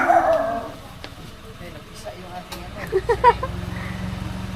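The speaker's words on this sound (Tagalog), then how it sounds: "Ayan, ang aso." A dog barks a few short yips near the end, under a voice and outdoor background noise.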